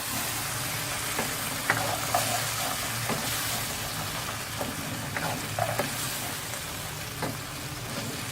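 Black chickpeas, about a quarter kilo, frying in oil with a steady low sizzle and occasional stirring clinks, moderately loud and close throughout, no voices.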